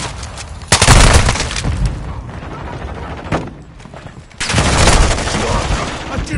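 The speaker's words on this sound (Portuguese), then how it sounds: "Cuidado! Granada de concussão lançada!" Concussion grenade exploding in Call of Duty Modern Warfare 2 multiplayer, a loud booming blast amid dense in-game gunfire, with a second heavy burst of shots following a brief lull.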